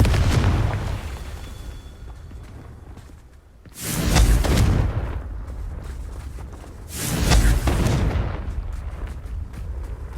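Two heavy blasts from the Confringo fire spell in Hogwarts Legacy, each a deep booming explosion with a rushing whoosh and rumbling tail, spaced a few seconds apart over a continuous low roar.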